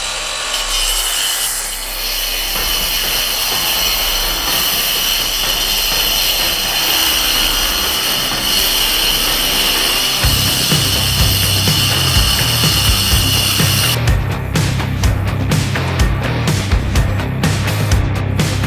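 A loud, steady grinding whine from a Star Pro SAG3-21 cordless angle grinder cutting concrete, harsh and continuous throughout with no voices.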